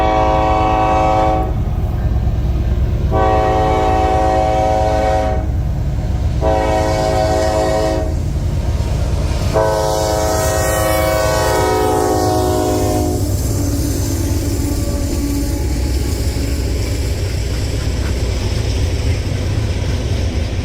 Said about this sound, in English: The last train of October was CSX B725, with 2 CP AC 4400 CWMs leading the train.